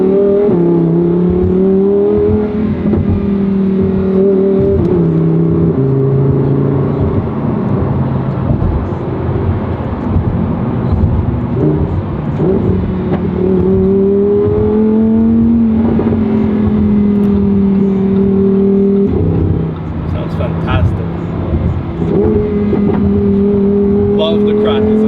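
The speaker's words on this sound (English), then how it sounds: "At lower RPMs, it sounds better than the STO, actually. I believe this has the Acropovic exhaust." Lamborghini Huracan Tecnica V10 with an Akrapovic exhaust, heard from the cabin pulling through gears, its loud droning engine note rising and falling with each shift throughout.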